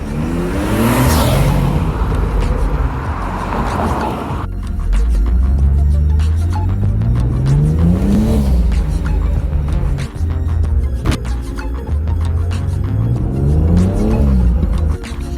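A BMW F30 340i with a B58 engine and an Agency Power intake revs hard through several full-throttle pulls with rising and falling engine tones, loud and close, with tire noise, whooshing intake sound and crackles.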